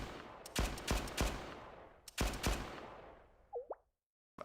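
Gunfire from the anime-style game Blue Archive: several sharp shots in two quick clusters, each ringing out with a long decaying tail, followed by a brief rising synthetic blip and then a pause, with no talking.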